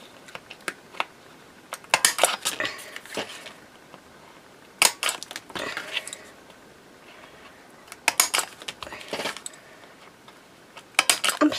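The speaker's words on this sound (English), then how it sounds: "I'm going to use my slot punch. So I'll just put a hole in." A slot punch cutting holes in mixed media paper tags: sharp clicking snaps in scattered clusters, close up, with light paper handling between punches and no talking.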